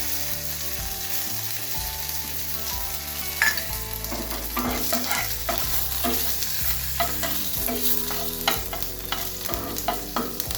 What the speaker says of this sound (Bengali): একটু কারি পাতা দিচ্ছি।